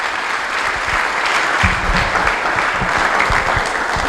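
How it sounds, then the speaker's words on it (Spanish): Audience applause at an evening talk at a school, offered in thanks for a couple's lives; steady, dense clapping from a crowd fills the whole stretch at even loudness. "Vamos a darle un aplauso al Señor por la vida de René y por la vida de Marta."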